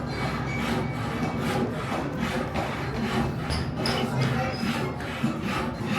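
Steady back-and-forth rasping of a hand saw cutting wood, rhythmic strokes repeating close by, with faint background murmur.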